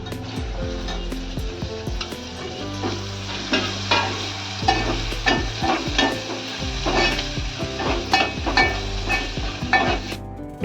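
Malvani masala goes into a sizzling tempering for a pea curry and is stirred with repeated metallic scrapes and clinks of a spoon against the pan over a steady fry, close and fairly loud, with no talking.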